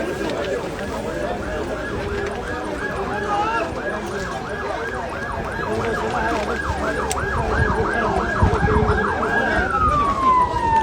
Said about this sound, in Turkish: ambulanslar gelmeye devam ediyor